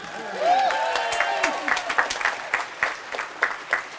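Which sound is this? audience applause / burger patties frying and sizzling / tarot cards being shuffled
audience applause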